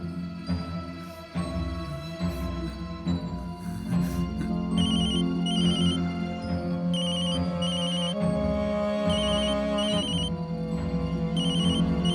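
A mobile phone ringtone plays in a Hindi TV drama, a steady repeating melodic ring that goes on for about twelve seconds, fairly loud and with no talking over it.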